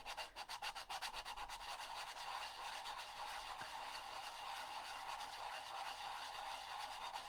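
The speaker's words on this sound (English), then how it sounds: "And that sanded pretty easy, but this part is not as easy to sand" Sandpaper rubs across exposed cardboard in rapid back-and-forth strokes, a rhythmic scratchy rasp at first that settles into continuous faint scraping, close and alone with no talking.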